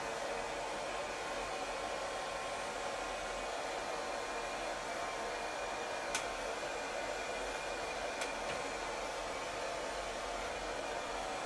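A hair dryer blows continuously at close range while drying hair, a steady loud whooshing roar with a faint motor whine, unbroken throughout with no voices.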